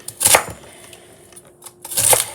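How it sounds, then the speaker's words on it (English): A knife chops celery on a cutting board in a home kitchen, two sharp, close chopping bursts about two seconds apart with quiet pause between. "as soon as I get the celery chopped"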